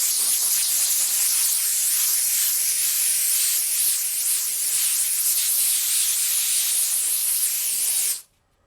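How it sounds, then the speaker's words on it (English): A steam cleaner sprays a steady, loud, close hiss of steam onto a motorcycle or car wheel outdoors in cold weather, running unbroken for about eight seconds before cutting off abruptly. "Instead of washing your car with water,"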